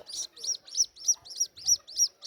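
A watercock chick peeps in a fast, regular series of high, bright chirps, each one close and clear against near silence.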